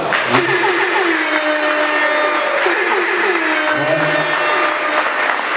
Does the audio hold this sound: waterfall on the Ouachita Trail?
no